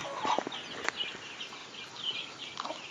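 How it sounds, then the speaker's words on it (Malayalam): A native hen with her eleven young chicks clucks and cheeps in short scattered calls, close by, with soft peeps running through the background. "ഞാൻ വിരിയിച്ചിറക്കിയ നാടൻ കോഴി കോഴി അമ്മയും മക്കളുമാണ്"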